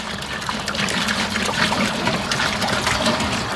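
Tap water pours into an old 8-gallon metal pot for a moonshine mash, a close, steady splashing gush with bubbly trickling detail and no talking.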